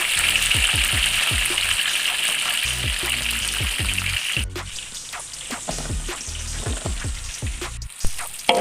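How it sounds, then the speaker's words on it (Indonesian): Eggplant frying in hot oil gives a continuous loud sizzle, with scattered knocks of utensils stirring the pan; the crackle eases slightly midway before flaring again. "Kita lanjut menggoreng terung ya Bunda."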